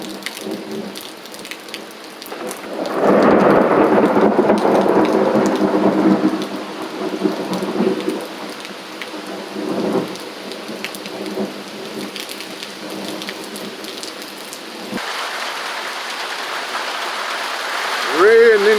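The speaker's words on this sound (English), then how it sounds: "Please enjoy the rain." Rain drums on a zinc roof in rural Jamaica during a June storm, with a heavy roll of thunder building and fading early on. A steady patter continues afterward under the rumble.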